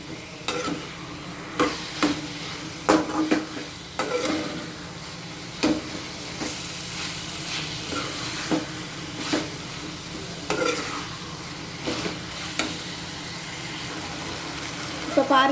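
Chicken varuval cooks in oil and a little water in a pan, giving a low steady sizzle broken by repeated scraping stirs at an uneven rhythm, close and fairly quiet.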